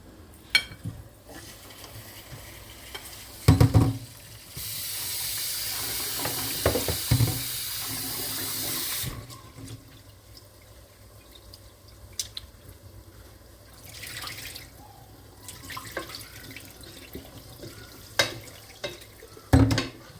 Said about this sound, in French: Je prends mon riz, je vais laver mon riz, je mets dans le bol.